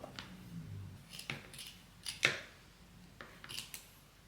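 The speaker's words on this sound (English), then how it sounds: "I'm gonna cut like at an angle, a little triangle." Scissors snip through boot material while trimming off excess, making a handful of short, crisp cuts at irregular intervals, close and fairly quiet.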